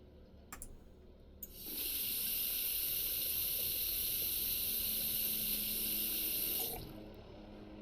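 In the Cooking Simulator video game, a tap runs to fill one litre of water for soup, a bright steady rushing hiss lasting about five seconds, with soft clicks before it and a fade as it stops.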